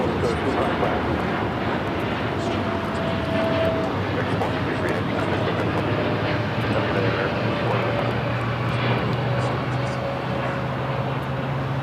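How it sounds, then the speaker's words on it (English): An American Airlines Boeing 787-8 Dreamliner taking off at LAX gives a sustained, moderately distant jet roar with a low steady hum underneath, even and unbroken throughout. "This is American Airlines 453 taking off to Dallas-Fort Worth on the 787-8 Dreamliner"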